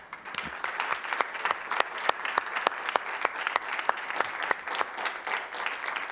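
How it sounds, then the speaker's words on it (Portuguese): An audience applauds at the close of a panel discussion, a moderately sized crowd clapping in a steady stream of distinct, fairly close claps throughout. "Uma salva de palmas para..."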